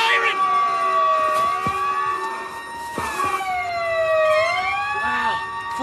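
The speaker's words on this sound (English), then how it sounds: "The base siren!" A base alarm siren wailing loudly with rising and falling tones, overlapping sweeps and sharp bursts layered together over several seconds.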